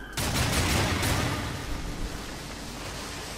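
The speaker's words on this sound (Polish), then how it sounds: "Kilka strzałów po nich." A loud burst of gunfire in Darksiders 2, several quick shots blending into a noisy crackle that slowly fades into rumbling ambience.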